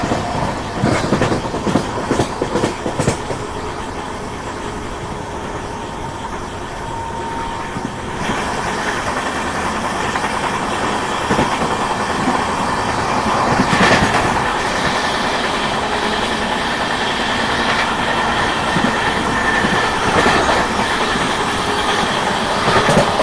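An Indian Railways Delhi–Mizoram Rajdhani Express runs at speed while overtaking the Avadh Express near Kanpur Central, with a steady loud rumble, rhythmic clickety-clack of wheels on rail joints, and occasional metallic squeals throughout.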